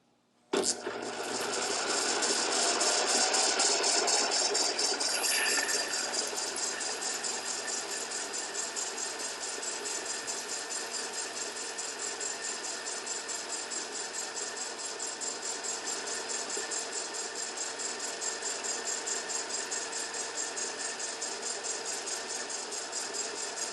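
A milling machine running on power feed, a steady mechanical hum with a fine rhythmic whir and a louder cutting swell in the first few seconds, then settling into an even drone throughout.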